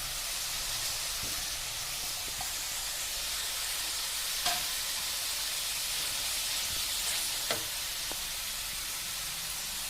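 Chapati pieces dropped into a boiling kurma in a pan, with a soft continuous sizzle and bubbling and a few faint clinks of stirring, fairly quiet throughout.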